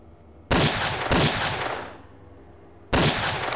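A skeleton enemy fires a pistol in the video game Undergrounds: loud, booming shots with long echoing tails, two close together at the start and another after a short pause.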